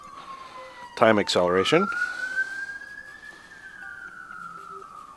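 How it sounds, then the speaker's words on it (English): Wailing siren from an ambulance in the space game Kerbal Space Program, one long tone rising slowly then easing down, steady and moderately loud, with someone talking briefly over its start. "as you can hear, probably here, I got a ambulance standing by"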